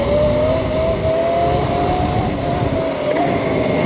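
A Sur-Ron electric bike fitted with a 72 volt battery and TORP TC500 controller is being ridden, with a loud motor whine rising slowly in pitch over heavy wind rush and a brief pitch bump near the end.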